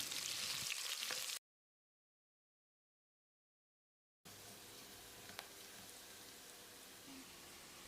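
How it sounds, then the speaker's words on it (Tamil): Sliced big onions sizzle steadily in hot oil for biryani, a continuous dense frying hiss with a brief silent gap, no voices. "வெங்காயத்தை பொன்னிறமாக வதக்கிடலாம்."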